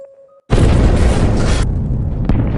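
A sudden, loud explosion erupts after a moment of quiet, a deep roaring blast that rumbles on and fades slightly, with a sharp crack near the end.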